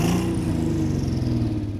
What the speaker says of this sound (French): vous venez d'entendre le premier son du moteur 12 cylindres